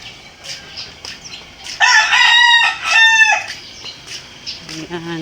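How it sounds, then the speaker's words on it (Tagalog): Two loud rooster crows ring out back to back nearby, followed by softer clucking and distant bird chatter. "Ang daming manok dito sa kapitbahay namin."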